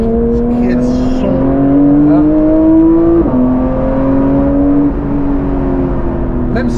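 A car engine revs close by, its note climbing steadily and dropping sharply partway through before rising again, a loud, sustained mechanical drone throughout.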